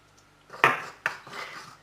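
Spoon scraping and clinking in a small bowl as ground garam masala spices, cumin and cinnamon powder, are mixed together: two sharp scrapes followed by softer rubbing, close and fairly quiet.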